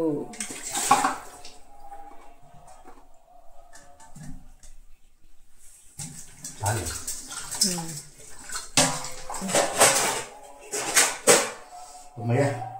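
Plates being washed under running water in a home kitchen, with splashing and clinking dishes coming in intermittent bursts while people talk throughout.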